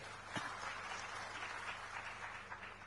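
An audience claps for itself at a district public dialogue event in Bemetara. The clapping is a steady, sustained wash from a crowd, with no break across the stretch.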